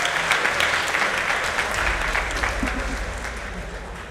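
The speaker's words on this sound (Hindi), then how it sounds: "ऑक्सफोर्ड यूनियन में बैठे सभी मजहबों के एक्सपर्ट ने तालियां बजाई" Audience applause fills the chamber at an Oxford Union debate, a dense steady clapping that holds for several seconds and gradually thins toward the end.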